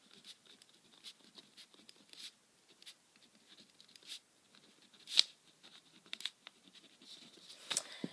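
Soft pen-on-paper scratching as a page title is written in a notebook, faint, close, intermittent strokes with short pauses between them and no talk.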